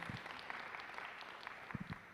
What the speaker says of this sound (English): I deserved applause